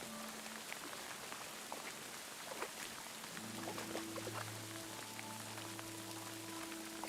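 Ambient rain from Kingdom Come Deliverance 2 falls as a steady, quiet hiss of drops, joined midway by a low sustained hum and faint tonal sounds underneath, with no voices present.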